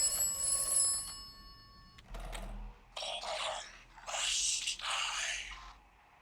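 An in-game telephone in Atomfall gives a brief bell trill at the start, then a thud and several bursts of broadband clatter and scraping noise follow, with no talking.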